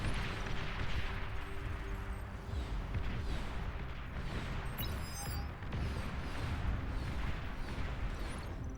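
Janus units in Beyond All Reason fire a volley on a glacial battlefield: dense, rolling booms and cracks of cannon fire pile up continuously over a heavy low rumble, with no voices.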